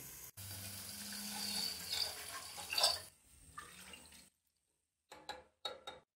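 Water poured into soaking rice for a pulao, about two litres for a kilo of rice, gushing steadily into the pot for a few seconds, then stopping, followed by a few short splashes and drips.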